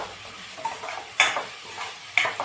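A spiced mixture with chili powder is stirred in a pan, giving a soft continuous sizzle with two sharp scraping strokes of the spoon about a second apart.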